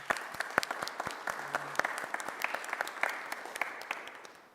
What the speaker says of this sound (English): let me applaud you one more time